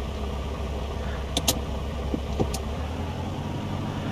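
Steady low drone of a Piper Cherokee light aircraft engine during takeoff from runway 20 at Bremerton, heard from inside the cabin as a continuous hum with a few faint clicks, no talking.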